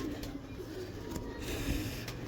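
Pigeons cooing softly at a breeder's loft, low rhythmic coos over a faint background hum, fairly quiet and distant with no talking.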